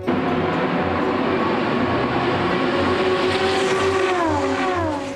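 An Audi race car at the Le Mans 24 Hours rolls into the pit lane, its engine a loud, close, steady drone with a pitch that slides downward near the end, and no talk over it.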